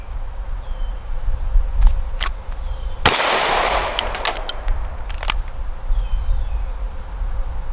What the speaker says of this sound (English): 4 shots at the steel, 6 shots into the target